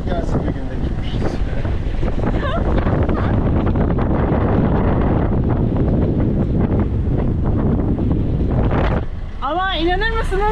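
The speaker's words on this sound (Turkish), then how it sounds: "Hava 20 esiyor." Strong wind at sea aboard a sailboat, a dense, steady roar of wind buffeting the microphone throughout, with brief voices rising over it near the end.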